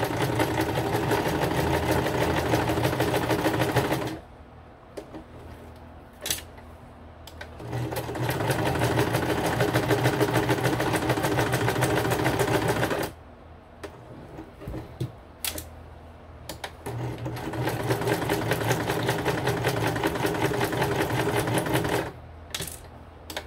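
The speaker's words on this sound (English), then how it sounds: "So I'm going to do the zigzag stitch. I'm going to put it at 3 3/4. And I'm just going to sew it all the way around." A sewing machine runs a zigzag stitch around the edge of a handmade collaged card, in three long steady bursts of dense rapid stitching separated by brief pauses.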